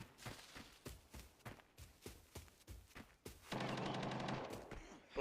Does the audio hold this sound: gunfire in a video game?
yes